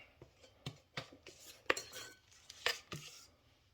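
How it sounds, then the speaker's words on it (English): Pecan rum pound cake batter is mixed in a bowl, with irregular clinks and scrapes of a utensil against the bowl and soft wet stirring between the knocks, close and fairly quiet. "we got dry pieces in the bottom of the cake bowl, so we're going to get them mixed in"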